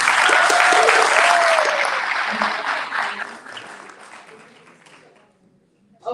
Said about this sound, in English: Okay, so another big round of applause for UCC.